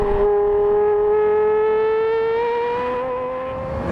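A Ferrari GT engine revs hard, its tone climbing steadily through a long pull and then easing slightly as a gear shift comes in, close and loud with no talk over it.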